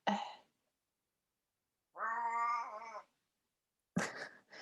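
A cat meows in a quiet room: three separate short calls, the middle one a longer drawn-out tonal meow, each set apart by silence.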